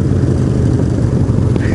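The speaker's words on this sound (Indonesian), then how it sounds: "Harley suaranya nggak bisa bohong, nggak bisa bohong." A Harley-Davidson motorcycle engine rumbles loud and near with a deep, uneven low-pitched throb, steady throughout the short stretch.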